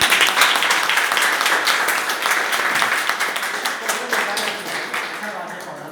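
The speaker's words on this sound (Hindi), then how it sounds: "जो लोग पाउडर लगाते हैं उनके लिए जोरदार तालियां।" Audience applause at a lively talk-show gathering, loud and sustained clapping from many hands that fades slightly near the end.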